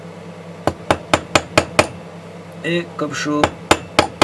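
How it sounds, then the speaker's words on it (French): A hammer flattens a metal piece for a turquoise pendant with a steady run of sharp ringing blows, then a short pause filled by a voice, then several more strikes. "on va prendre un peu de marteau, puis on va le remettre bien à plat"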